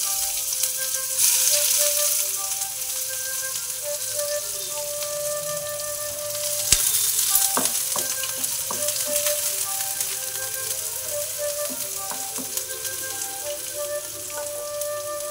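Chopped onions frying in oil in a wok (kadai) for an egg dahi curry give a steady, close sizzle with occasional clicks and a sharp utensil tap partway through, with no one speaking.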